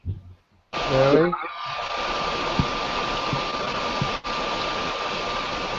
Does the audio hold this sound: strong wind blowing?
no